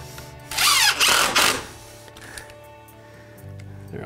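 A power drill drives flooring screws to mount a shower drop, with a loud whirring burst of about one second that stops briefly and starts again. Quiet room tone follows, with faint handling clicks.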